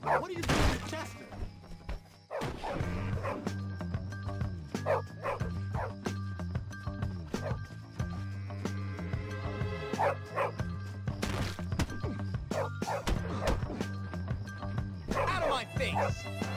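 A dog barks and yips repeatedly in the video game Bully (Canis Canem Edit), loud and close, over game music, with character voices talking throughout.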